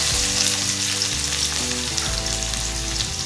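Onion and green chillies fry in hot oil in a pan with a loud, constant sizzle and crackle, close up and with no voices.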